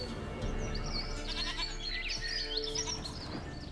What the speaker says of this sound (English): Another clue. Goat.